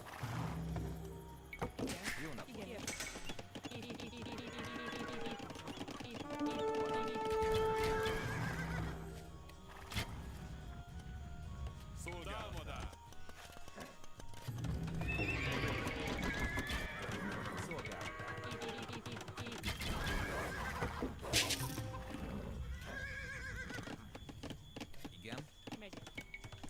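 Horses neigh and whinny repeatedly in a strategy video game, with clip-clopping hooves and other game effects beneath, while a person talks over the sounds throughout.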